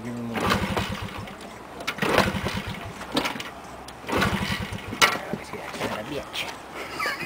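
A 1998 Honda 50cc motorcycle is repeatedly cranked on a cold start, with rhythmic bursts of engine cranking in regular pulses separated by short pauses, close and fairly loud, while people talk in between.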